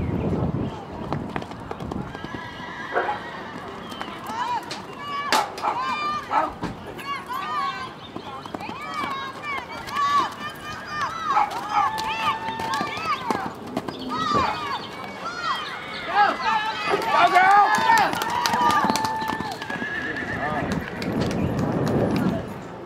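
A horse gallops through a jackpot barrel racing run at an indoor saddle series event, with steady hoofbeats and occasional whinnies under continuous arena noise, crowd sounds and an announcer's voice.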